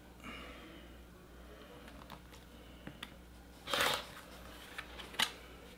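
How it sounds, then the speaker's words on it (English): A rotary cutter slices quilting fabric along a ruler to make 6-inch triangles, giving one quick scraping swish in the middle and a few light clicks of the ruler in an otherwise quiet room. "Turn my ruler and cut."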